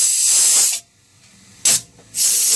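Compressed air from a pneumatic power drawbar on a milling machine spindle hisses loudly in three bursts at the press of a red button: a long blast, a short sharp puff, then another sustained rush, with quiet between.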